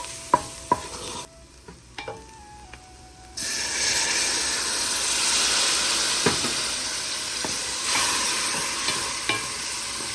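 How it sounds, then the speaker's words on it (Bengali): Spice masala sautéing in a pan with a splash of water: a quiet start with faint clinks, then a loud steady sizzle and hiss from about three seconds on, with occasional spoon scrapes and taps. "সামান্য জল দিয়ে ভালো করে কষিয়ে নিচ্ছি মশলাগুলো।"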